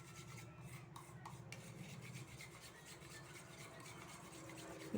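Pizza batter beaten by hand in a bowl, a soft continuous rasping scrape with a rapid stirring rhythm, close and quiet throughout.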